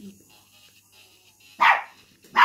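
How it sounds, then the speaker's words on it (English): Dogs bark twice in a home where a gel polish manicure is underway, two loud, sharp, fairly close barks about a second apart after a quiet stretch. "oh, sorry, that's my dogs."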